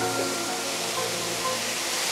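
Water pours steadily at a waterfall, a dense continuous broadband rush with no breaks, moderately loud and close, with no voices over it.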